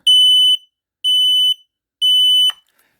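A smoke detector sounds during a test with three loud, piercing, evenly spaced half-second beeps, close and alone, the last one cut off abruptly by a click.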